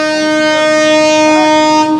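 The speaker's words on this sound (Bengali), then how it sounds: "আবার ধীরে ধীরে স্বাভাবিক গতিতে ফিরছে আমাদের ট্রেন।" Rupsha Express passenger train running on the Natore to Khulna line, a loud steady rumble with strong sustained whistle-like tones and a brief rising wail partway through, heard from on board.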